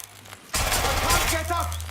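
Automated turret fire in Watch Dogs Legion erupts abruptly after a brief quiet lead-in, then runs as a loud, continuous burst of rapid gunfire for about a second and a half under faint game voices.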